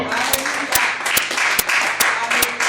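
A church congregation claps in a steady rhythm, about two beats per second, with sharp, loud, close hand claps over a background of voices.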